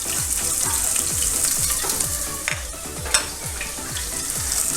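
Three chopped green chilies and a small piece of ginger fry in a hot pan with a bright, steady sizzle, while a spoon scrapes and stirs in a regular rhythm, with one sharper knock; no talking.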